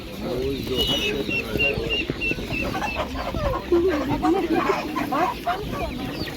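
Several roosters cluck and chatter close by at a busy, noisy market, with people talking in the background.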